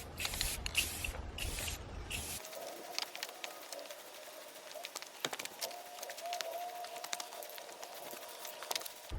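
Spray can hissing out a second coat of paint onto a Saab 9-3 grille, opening with a couple of short close bursts, then giving way to quiet outdoor ambience with faint bird calls.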